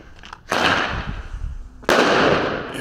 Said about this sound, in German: Dann machen wir jetzt den Flashbang.